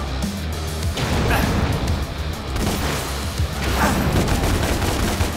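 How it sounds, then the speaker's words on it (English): Rapid, loud gunfire from the Devil May Cry video game: dense bursts of shots crackle almost continuously for several seconds, close and forceful, with no speech over them. "I can shoot the damn posts"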